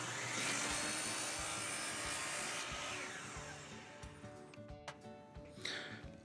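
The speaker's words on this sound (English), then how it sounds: "We'll go ahead and cut that guy on the miter saw." A miter saw cuts wood trim with a loud, close whining roar for about three seconds, then spins down, followed by faint clicks and knocks.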